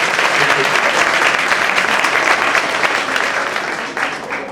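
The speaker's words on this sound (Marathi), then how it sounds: "गुरुजन साहेबांसाठी जोरात टाळ्या होत्या एकदा." An audience breaks into loud, sustained clapping for the teachers, a dense wash of hands that holds steady for several seconds before easing slightly toward the end, with faint voices mixed in.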